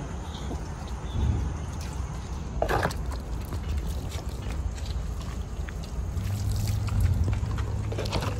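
Water is poured over a cow being washed in a home courtyard, producing steady splashing and trickling over a constant wet background, with a few louder pours along the way.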